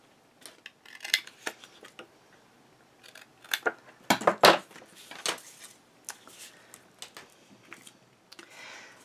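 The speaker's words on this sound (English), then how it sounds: "Cut out the squares," Scissors snip through paper to cut out squares for a scrapbook album side pocket, a series of irregular close crisp cuts with quiet pauses between, no talk.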